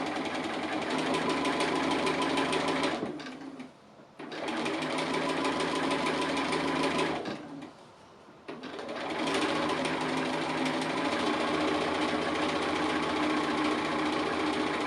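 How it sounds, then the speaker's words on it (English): An embroidery machine stitches an appliqué house design, a fast steady mechanical whirring and clatter heard up close that stops twice for a few seconds before starting up again. "Or we could just start stitching those lines as we go, which is what I'm going to do."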